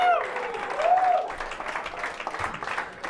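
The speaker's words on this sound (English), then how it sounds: "the applause never gets old" Comedy club audience at a New York comedy festival breaks into applause, opening with a rising cheer or whoop before settling into a brisk, full round of clapping.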